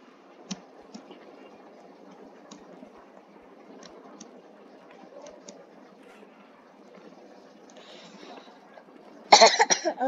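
A single sharp, loud cough bursts out near the end after a long stretch of quiet room noise with faint scattered clicks.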